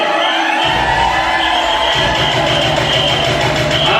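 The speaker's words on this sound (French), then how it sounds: "Nous pouvons les applaudir et pousser des cris de joie" Wedding congregation at a church service cheering and shouting with joy, a loud sustained crowd roar with whoops and applause filling the whole stretch after a brief quieter start.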